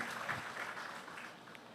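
Applause from a party conference audience, a soft, diffuse clapping heard at a distance and steady throughout the short stretch.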